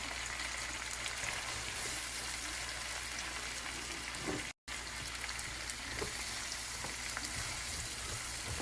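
Vegetables and onions for Cajun shrimp and scallop pasta fry in a pan with a steady, close sizzle and hiss, broken once by a brief cut of silence before the frying resumes; no one speaks.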